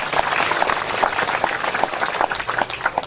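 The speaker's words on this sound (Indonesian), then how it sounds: "Tepuk tangan untuk Mas Dik. Tepuk tangannya ikhlas buat beliau." A crowd at a religious sermon claps together, a dense patter of hands that holds steady and fairly loud for a few seconds, with no talk over it.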